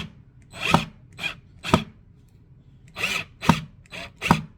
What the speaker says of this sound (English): And I'm not going as fast with the drill.